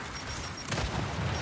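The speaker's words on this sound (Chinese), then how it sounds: "要爆炸了！" Explosion in the Gears 5 video game on Xbox Series X, a sudden loud blast at about the midpoint that swells into a dense rumbling burst with crackling debris, over a low background of combat noise.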